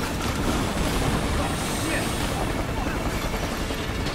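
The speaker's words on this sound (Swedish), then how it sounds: "Ooh, helikopter!" Helicopter in the video game Battlefield Hardline, a loud, steady broadband rotor and engine roar that fills the whole stretch without letup, mixed with game action noise.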